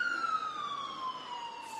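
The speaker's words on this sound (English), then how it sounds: "as the ambulance continues to go by me" An ambulance siren wails steadily as it passes nearby, its falling tone drifting slightly lower over nearly two seconds, loud and continuous with light street noise beneath.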